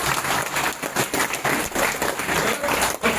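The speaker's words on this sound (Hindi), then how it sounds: "तालियां तो बजनी चाहिए" Audience applause at a college alumni gathering, a dense broadband patter of many hands clapping steadily throughout with slight swells, loud and close, no voices heard.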